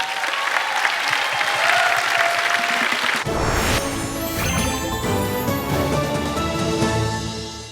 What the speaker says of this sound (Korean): 세르마토바 아자칸 학생에게 박수 보내주시죠